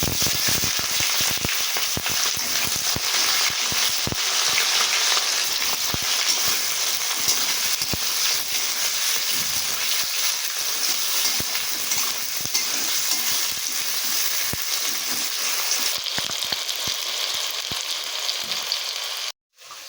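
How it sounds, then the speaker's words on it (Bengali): Cumin seeds and chopped onion hit hot oil in a pan and sizzle loudly and steadily, with occasional stirring scrapes, close up and with no talking, until the sound cuts off abruptly at the end. "এবার আমি তেলের মধ্যে ফোড়নে জিরা দিয়ে দিলাম। দিয়ে দিচ্ছি কেটে রাখা পেঁয়াজ কুচি।"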